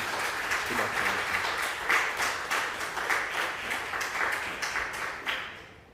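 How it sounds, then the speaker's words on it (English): An audience at a community college new student orientation bursts into a sustained round of applause, dense and even clapping that holds steady before tapering off at the end. "please give a rousing round of applause again as a thank you"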